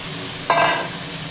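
Cut potatoes tipped into a hot pan and stirred, one sudden sharp sizzle burst that quickly fades into a lower steady frying hiss.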